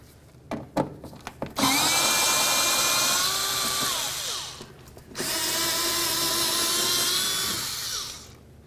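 A power drill backs out bolts on the passenger-side exhaust manifold of a 2007-2017 Ford Expedition: a few clicks, then two sustained, whirring bursts of about three seconds each, close and clear.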